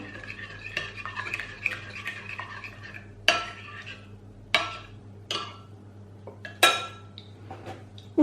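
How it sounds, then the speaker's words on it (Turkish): A spoon stirs sugar and salt into a dough mixture in a bowl, giving repeated scraping swishes and sharp clinks against the dish in an irregular rhythm, close and fairly loud. "Tekrar şöyle karıştırıyorum. Şimdi şöyle bir şekerimizi eritelim."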